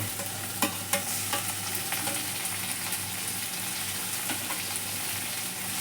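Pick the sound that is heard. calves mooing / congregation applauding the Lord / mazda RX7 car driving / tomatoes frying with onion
tomatoes frying with onion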